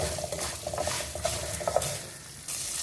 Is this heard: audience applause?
no